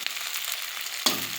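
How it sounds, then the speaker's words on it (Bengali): Hot oil sizzles steadily as onions and spices fry in a pan for a Bengali fish curry. A sharp clatter from stirring near the end makes the frying briefly louder. "ফোড়ন দিয়ে দেবো, মশলাটা কষে নেব।"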